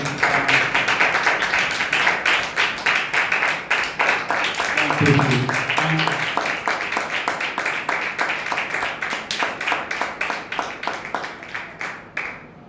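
A church congregation claps in steady, rapid unison for about twelve seconds, the loud, dense hand claps filling the room and trailing off near the end, with a brief burst of voices partway through.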